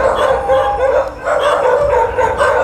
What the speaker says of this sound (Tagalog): Pero pag lumayo na sila, doon palang kakahol yung aso.